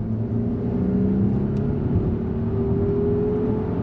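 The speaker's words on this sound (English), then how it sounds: "You can hear the petrol engine quite clearly." Petrol engine of a 2023 Volvo XC90 T8 plug-in hybrid SUV accelerating from 30 to 70 mph, heard from inside as a steady mid-low roar that holds throughout with a faint rising tone, no talk over it.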